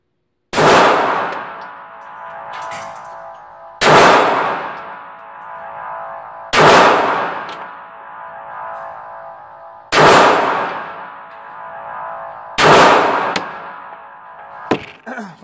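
Five loud, sharp pistol shots from a Taurus TCP fired at a paper target seven yards away, each spaced about three seconds apart with a ringing decay, followed by a faint click at the end.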